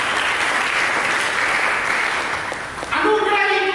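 A church congregation applauds during a sermon, dense steady clapping filling the room throughout, with a brief dip near the end before it swells again as a sustained organ or keyboard tone comes in.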